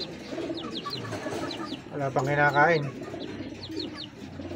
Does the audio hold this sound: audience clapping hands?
no